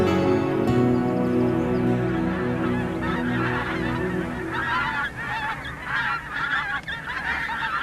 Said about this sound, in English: The sight of wild geese spilling from the sky